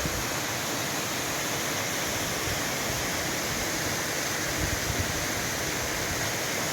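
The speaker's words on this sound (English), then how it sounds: "Here is the first waterfall." A waterfall on the Pennine Way between Keld and Middleton-in-Teesdale roars steadily, a dense, even rush of falling water that fills the whole scene without pause.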